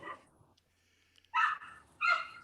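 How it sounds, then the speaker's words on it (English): A dog, likely a neighbor's black lab in the house next door, barks in two loud, separate bursts with a quiet gap between them. A brief voice sounds at the very start. "Can you hear the dogs?"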